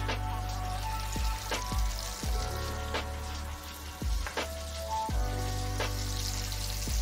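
Pork chops with figs, seasoned with salt and pepper, crackle in a hot pan over high heat, a steady sizzle broken by several sharp pops spread across the stretch, with no voices.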